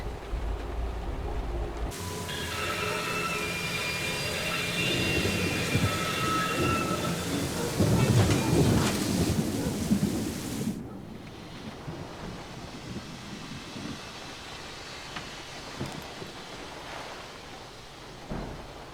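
A thunderstorm with rain in the Syberia game roars as a steady broadband wash of wind and rainfall, heavier for the first ten seconds and then easing to a softer continuous hiss, with no voices.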